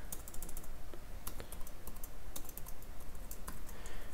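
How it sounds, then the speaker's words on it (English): Steady, fast typing on a computer keyboard while entering Minecraft Forge mod code, soft close clicks in a continuous run with no voices. "We're gonna type in block name."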